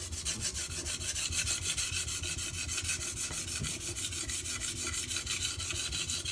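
Steady, continuous rasping strokes of an S35VN steel knife blade drawn across a Rockstar 320 grit sharpening stone, close and fairly quiet, in an even rhythm with no talk.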